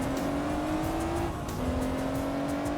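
Car engine revving in the racing game Gran Turismo 4, a steady droning tone that dips briefly midway before climbing again, loud and continuous with no voices.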